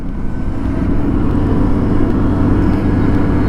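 A scooter ridden along an open road between Kalpakkam and Chennai, its engine droning steadily and loud throughout with constant road and wind rumble, no speech.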